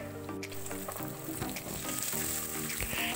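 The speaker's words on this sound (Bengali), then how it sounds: "আমি এখানে দুটো দুটো করে মাছ ভেজে তুলে নিচ্ছি।" Pabda fish fries in hot oil, two at a time, with a continuous crackling sizzle and occasional sharper pops and spatters, close and steady with no talking.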